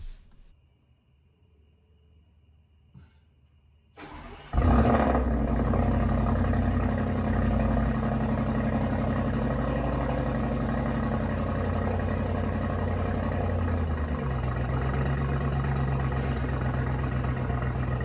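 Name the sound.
Audi SQ7 sport resonating exhaust running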